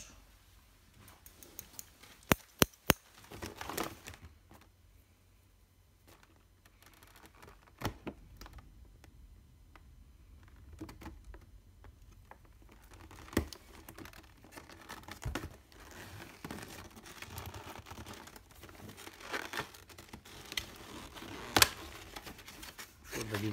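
A PS4 console box is opened after its tape is cut: quiet, sharp clicks and snaps with soft crinkling of packaging, scattered irregularly in a hushed room.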